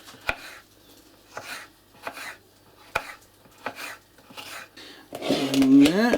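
Red pepper is sliced finely with a knife on a board, giving a slow series of sharp individual chops that turn into brisker clatter and handling noise at the end.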